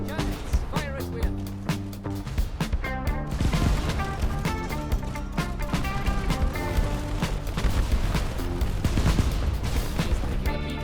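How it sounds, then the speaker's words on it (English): Ship cannons fire again and again in the airship battle game Airship: Kingdoms Adrift, sharp booming volleys and crashes landing in quick irregular bursts over a busy layered game soundtrack. "Cannons, fire at will."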